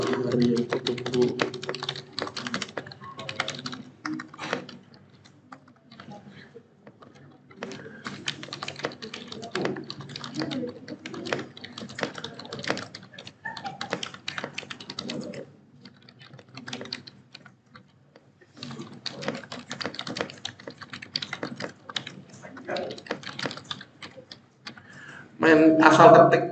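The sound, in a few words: typing on a computer keyboard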